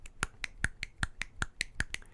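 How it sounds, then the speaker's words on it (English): Hands clap quickly one after another in a fast, even beat, about eleven sharp, crisp claps in close succession with no talking. "just clapping my hands separately real fast"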